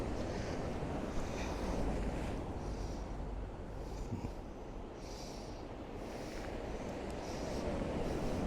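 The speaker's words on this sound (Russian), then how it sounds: "Человек в море купается." Sea waves wash steadily along the shore, with a faint, continuous surf roar under wind noise while someone swims nearby; no speech is heard.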